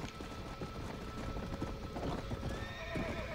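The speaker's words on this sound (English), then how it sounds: "I also realized I had an undead horse" An undead horse in Red Dead Redemption: Undead Nightmare gallops with rapid, steady hoofbeats and lets out whinnying neighs over a dense game soundscape, close and continuous.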